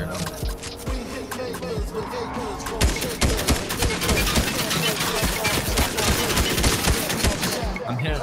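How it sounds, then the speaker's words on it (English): Rapid automatic gunfire in Fortnite Zero Builds on PS5, dense bursts of shots rattling continuously with a player talking over the top. "I'm shooting through the trees and I hit 49 to 30 something"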